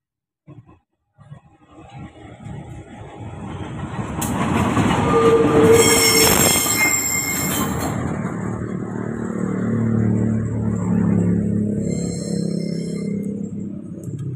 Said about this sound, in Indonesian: Ya, masih dengan lokomotif CC 2017723 Devo Induk Bandung.